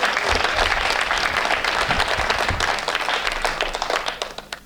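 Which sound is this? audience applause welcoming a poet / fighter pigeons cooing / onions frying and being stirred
audience applause welcoming a poet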